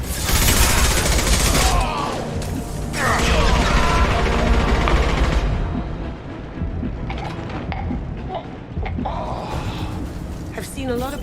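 Heavy gunfire from Mass Effect Legendary Edition 2 as enemy Vorcha shoot, rapid bursts mixed with clanks and a boom, loud at first and then thinning into scattered shots under game noise and voice chatter.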